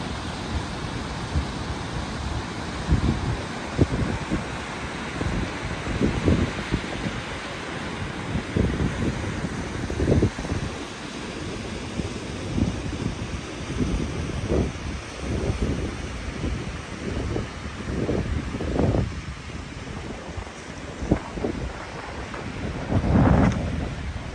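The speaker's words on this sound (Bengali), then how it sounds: "জাস্ট ঝর্ণার আওয়াজটা শুনেন কিছু" Outdoors near St. John's, Newfoundland, a waterfall gives a continuous broad rushing roar with gusty surges, a steady wash of water noise with no talking.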